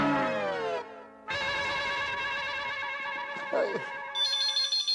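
A loud electronic mobile phone ringtone plays a steady, multi-tone melody, with a short pause early on and a brief change of pitch near the end.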